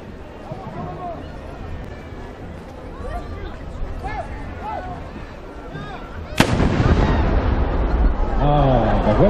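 A black-powder artillery cannon fires once at a historical imperial jubilee, a sudden loud, close boom followed by a rolling rumble, while a crowd chatters before and after the shot.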